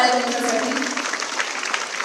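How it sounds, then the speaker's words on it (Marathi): Loud applause from an audience at a political event in Maharashtra, a thick continuous wash of clapping with faint voices mixed into the crowd noise. "जोरदार टाळ्या त्यांच्यासाठी."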